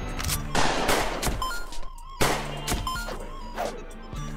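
Gunfire in the video game Kungfu Cowboy: a handful of punchy, crashing shots with ringing tails over a steady game background, loud and close.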